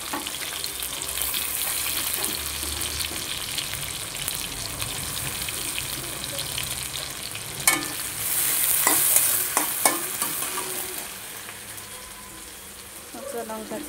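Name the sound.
chopped onion frying in oil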